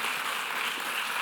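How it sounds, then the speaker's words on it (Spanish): Brief, dense applause from the audience at a cancer awareness conference, a steady wash of many hands clapping with no talk over it. "Así que un aplauso"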